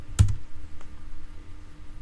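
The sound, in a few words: pressing enter on a computer keyboard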